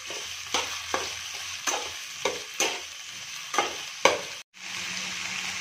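Spoon stirring ginger garlic paste through frying noodles for Chinese hakka street-style Maggi, with a steady sizzle broken by repeated scraping strokes about every half second.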